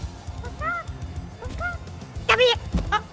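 Repeated honking bird calls from a chicken in the video game No More Rainbows, several short nasal squawks in bursts, the loudest cluster near the end, over a low background rumble.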